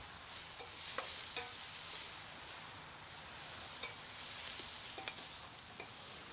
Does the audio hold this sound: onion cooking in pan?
yes